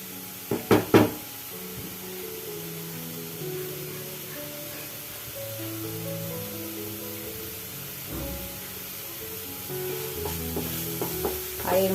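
A spice paste thinned with a splash of water fries in oil in a pan, giving a low sizzle with sharp stirring clatters at the start and near the end, while a tonal background hum runs underneath.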